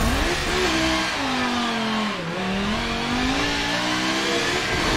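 A race car engine in a sim racing video game revs loudly and steadily, its pitch falling and rising again through a gear change. No voices are heard over it.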